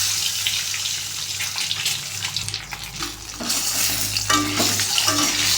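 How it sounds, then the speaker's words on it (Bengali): Eggs fry in hot mustard oil in a wok with a loud, dense sizzle and crackle that surges partway through, with sharper spattering bursts toward the end and no voices. "ডিম লাল করে ভাজতে হবে।"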